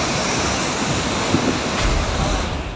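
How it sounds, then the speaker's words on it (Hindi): Swollen Sharda river at Banbasa, Champawat, Uttarakhand, surging far above the danger mark after 48 hours of torrential rain, gives a loud, continuous broadband roar of rushing floodwater with steady wind-like rumble throughout and no speech. "नदी का ये रौद्र रूप डरा रहा है।"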